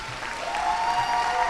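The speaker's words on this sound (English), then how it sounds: "Give them a round of applause." Audience applause for a school cheer team celebrating a national championship, a steady, fairly dense wash of clapping from a crowd, moderately loud and continuous over a short stretch.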